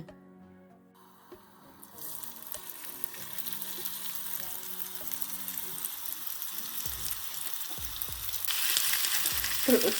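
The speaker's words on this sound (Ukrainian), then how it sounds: "воно не жариться, воно тушкується на сковорідці" Meat stewing in oil in a hot frying pan hisses and sizzles, a steady frying noise that grows louder and brighter toward the end, with faint clinks underneath.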